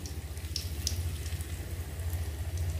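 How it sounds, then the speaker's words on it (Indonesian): Wonton dumplings (pangsit) frying in a pan of oil give a steady, close sizzle with scattered crackling pops throughout. "sekarang sudah aku goreng"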